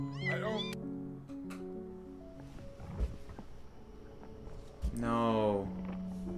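A cat in the video game Before Your Eyes gives two long, drawn-out meows a few seconds apart, loud and close, with a voice speaking between them.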